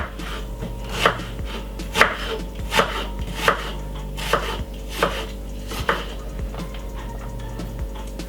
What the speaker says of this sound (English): And I'm going to cut it up very finely.